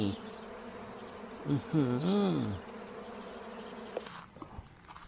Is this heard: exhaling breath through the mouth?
no